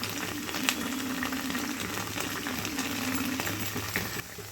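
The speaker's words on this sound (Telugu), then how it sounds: "ఇంకా గార్లిక్ ఫ్రై చేసుకోవాలి." Garlic and chopped capsicum sizzle in hot oil in a home kitchen pan, a steady close crackle with occasional sharper spits, alone without talk.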